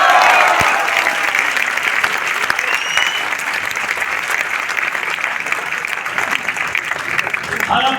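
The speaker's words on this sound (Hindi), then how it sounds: "तालियां होनी चाहिए सर" A crowd at a product sales talk breaks into loud, sustained clapping that carries on evenly for several seconds with no break.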